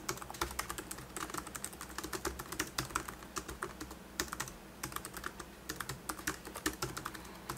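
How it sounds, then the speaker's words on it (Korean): ASUS ZenBook 13 UX331UAL laptop keyboard is typed on in quick, continuous clicking keystrokes, close and soft, with no voices. "지금 간단하게 타이핑을 한번 해 드려 보면은"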